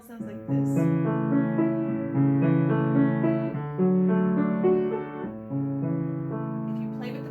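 Piano arpeggios moving through tonic, subdominant and back to tonic chords with the sustain pedal down, notes ringing together in a smooth, moderately soft flowing pattern, with no talking.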